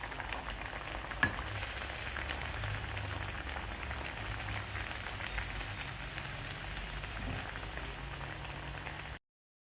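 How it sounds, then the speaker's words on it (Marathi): Pumpkin puris sizzle and crackle in hot oil, a steady close frying hiss with a soft rain-like patter, one sharp pop near the start, and no talking. "आपण त्याच्यामध्ये पुरी टाकून घेऊ."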